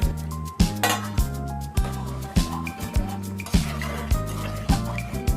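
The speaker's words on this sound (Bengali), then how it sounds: "এখন আমি আগে থেকে ভেজে রাখা আলু বেগুনগুলো দিয়ে দিচ্ছি। ভেজে রাখা মাছগুলো একই সাথে দিয়ে দিচ্ছি।" Fried potatoes, eggplant and hilsa fish go into a cooking pot for a mustard fish curry, heard as a rhythmic series of clinks and clanks of utensil against metal, close and fairly loud, with soft wet movement between strikes.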